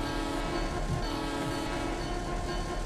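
A steady, loud locomotive horn drones without a break, layered over rumbling train noise, from a Great Northern Empire Builder train in the Train Simulator Classic video game.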